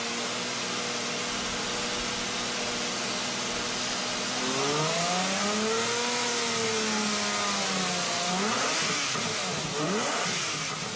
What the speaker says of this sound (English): the only music you're gonna want to hear is the song coming from that engine